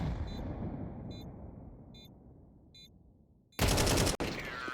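Gunfire in Counter-Strike on the Inferno map during an ESL Challenger League match: a sustained roar slowly fades, then a sudden loud, dense burst of shots breaks in near the end and cuts off briefly.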